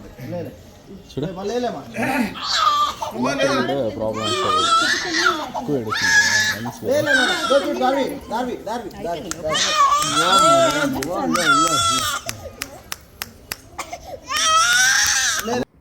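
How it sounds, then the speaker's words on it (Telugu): A baby girl cries hard through her first haircut, with loud, sustained wailing sobs in close bursts that continue across the whole stretch, while adults talk nearby. "పాపం అంత ఎక్కువ ఏడ్చింది గుక్క పట్టేసి"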